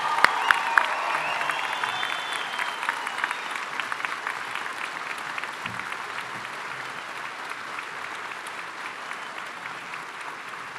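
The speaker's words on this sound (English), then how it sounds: "please join me in a round of applause" Graduation ceremony audience applauding a newly commissioned United States Army officer, steady dense clapping from a large crowd sustained throughout, with a few louder claps near the start.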